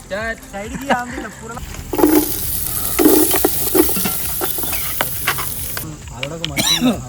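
Food dropped into hot oil in a garage cookout for chicken dawat, crackling and sizzling in bursts while people talk loudly over it.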